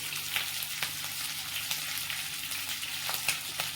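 Green chillies and curry leaves sizzle in hot oil, giving a soft, continuous crackle with small pops scattered throughout, quiet and close with no voices.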